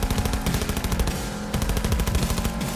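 Rapid automatic gunfire from the video game Cyberpunk 2077 on PC rattles in dense, loud bursts, with a brief pause midway before the rapid shots resume.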